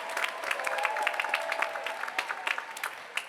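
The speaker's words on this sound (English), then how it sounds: "They're worth clapping for." An audience at a university graduation ceremony applauds, a dense spread of many hands clapping that holds steady and then thins into scattered claps toward the end.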